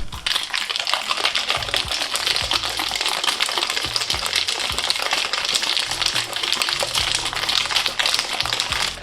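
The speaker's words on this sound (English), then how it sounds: "Now cover this up and give this a good shake." A covered cocktail shaker holding ice, soda water and raspberry lemonade is shaken hard, giving a dense, steady rattle of clattering ice with sharp ticks that runs for the whole stretch without a pause.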